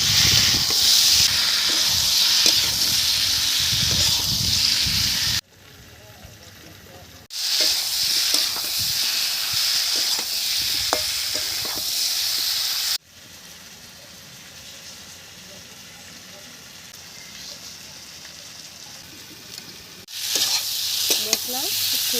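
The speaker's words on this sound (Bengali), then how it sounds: "মশলাটা খুব সুন্দর ভাজা হয়ে গেছে" Spices frying with potatoes for a Latha fish curry, a loud continuous hiss and sizzle close up with stirring scrapes, broken by quieter stretches where the frying sound drops low.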